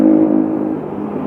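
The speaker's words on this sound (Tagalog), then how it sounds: "tumigil ako ayan namatay yung makina" A Yamaha Aerox V2 scooter's engine idles loudly up close and then fades as the stop-start system shuts it off after the scooter stops, leaving a brief dying whir.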